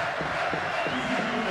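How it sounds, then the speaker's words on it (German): A stadium crowd at a 2006 FC Carl Zeiss Jena versus Fortuna Düsseldorf football match gives a substituted captain a standing ovation, a dense, steady roar of applause and cheering filling the stands. "Mit viel Beifall wird er verabschiedet"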